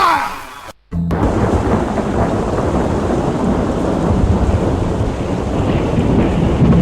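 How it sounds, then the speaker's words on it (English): Heavy rain and rolling thunder in the video game Dracula VS The Ninja On The Moon, a dense, loud roar of downpour with low rumbling, continuous after a brief dropout near the start, no voices. "Ninjas don't like rain."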